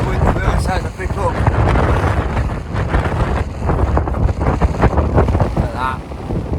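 Strong wind buffets the microphone on the ridge up to Ullock Pike toward Skiddaw in the Lake District in sub-zero conditions. It is a loud, continuous roar with gusts, and a voice is faintly audible beneath it.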